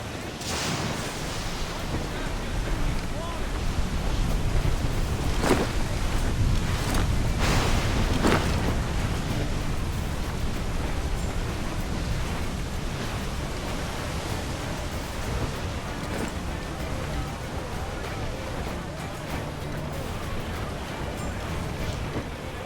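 A sea storm in Assassin's Creed 4 roars as a steady, dense wash of wind and crashing waves, loud and unbroken throughout, with a few sharper bursts standing out and shouting voices under the noise.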